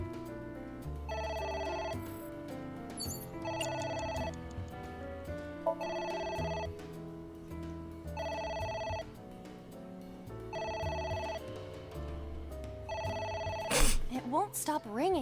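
In AI: The Somnium Files, a telephone rings in repeated short bursts with steady pauses between them, about six rings in all, while game characters talk over them.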